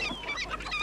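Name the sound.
chickens clucking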